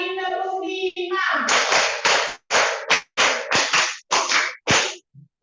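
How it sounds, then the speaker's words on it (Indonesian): A classroom of primary school children claps hands together in rhythm, a quick series of sharp, loud claps in short bursts following a brief stretch of children's voices. "Iya, dua sekarang 2 kali tepuk 5."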